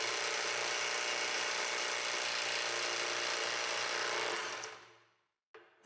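An impact wrench loosens bolts tightened to 100 Nm with a loud, steady rattling hammer that runs for several seconds, then winds down and stops, followed by a brief click.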